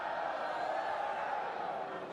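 Rugby stadium crowd at Scarlets versus Leinster rumbles with a broad, sustained murmur of reaction, steady and distant, with no clear peaks.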